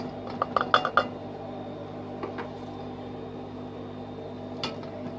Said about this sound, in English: Mix it. Stir it around.